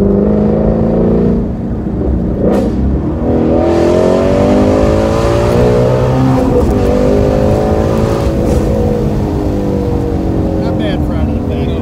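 A car pulls away and accelerates outdoors, its engine note rising steadily and loud throughout, with people talking over it.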